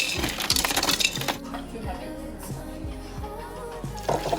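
Ice cubes clatter and clink against a container and each other in quick, close bursts, then a few scattered clinks follow amid soft kitchen noise.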